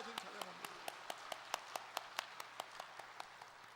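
A church congregation claps during a Sunday worship service, a fairly faint, evenly spaced run of sharp claps in a regular rhythm lasting a few seconds.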